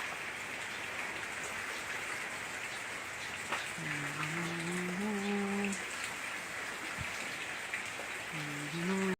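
Steady rain falls throughout, a dense even hiss of drops on a surface, with a few brief tonal sounds rising over it midway and near the end.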